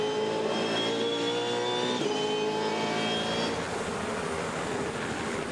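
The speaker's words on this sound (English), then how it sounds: "One of the best corners in world motorsport as they fly into the chase." V8 Supercars in the 2015 Bathurst 1000 race flying through a corner, engines screaming loudly and rising in pitch, then the note drops and fades into a rough distant rumble as the cars pass.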